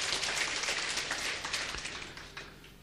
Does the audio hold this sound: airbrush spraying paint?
no